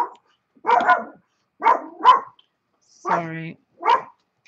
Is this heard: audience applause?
no